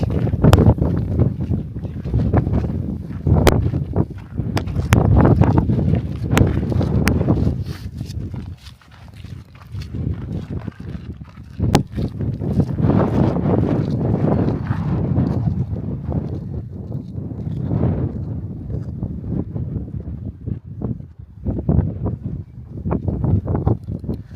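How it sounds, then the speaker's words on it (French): Strong gusting wind buffets the microphone in loud rumbling waves, rising and falling throughout with brief lulls. "il y a trop de vent"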